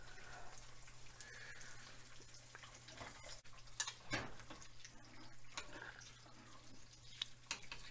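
Basted eggs frying gently in a pan over medium-low heat, giving a faint, steady sizzle with scattered soft pops and crackles and one louder spatter midway.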